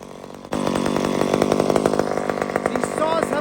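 A 54 cc chainsaw with a 28-inch bar and ground chain starts up loud and close, its engine buzzing in a rapid, uneven chatter that holds throughout.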